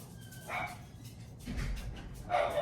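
Several short dog barks from a pet named Taffy sound indoors at moderate distance, spaced irregularly over a steady low background hum.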